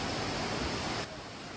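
Loud, steady rushing river water roars close by, a dense hiss of flow that drops slightly in level near the end.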